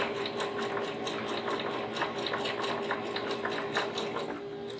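Sewing machine running steadily with the regular stitch setting, stitching a quilted faux-chenille pumpkin coaster, a continuous close mechanical whir with fast rhythmic ticking and no talk.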